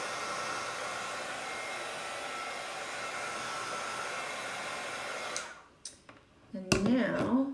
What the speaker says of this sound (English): So I think I'll hit this with a heat tool.